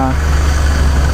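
A 1996 Suzuki Katana with its original, unmodified engine idles close by, a steady low rumble with even vibration throughout, running alone with no talk over it.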